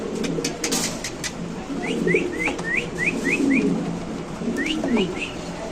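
White king pigeons coo in a short run of soft, repeated rising calls, about seven in quick succession and then three more, over a busy background murmur.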